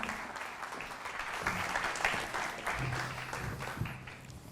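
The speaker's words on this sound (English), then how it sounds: "A round of applause for all." Applause from the audience at a semiconductor talent acquisition conference session, a steady moderate clatter of clapping that holds across the whole stretch with faint murmurs underneath.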